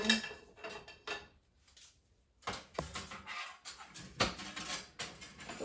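Wooden and plastic kitchen utensils are dropped and sorted into a large utensil holder, giving quiet, intermittent clatters and knocks with a brief lull between bursts.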